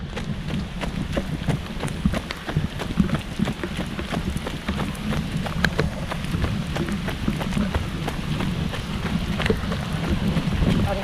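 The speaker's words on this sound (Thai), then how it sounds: "ฝนตกแรงมาก" Heavy rain pours steadily during a half marathon, a dense, constant hiss of drops drumming nearby with occasional low rumbles, no speech over it.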